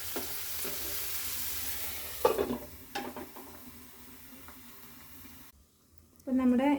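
Tomatoes and onions sauté in a pan for a yellow catfish mappas curry, with a soft steady sizzle broken by louder scraping stirs of a spoon against the pan, close by.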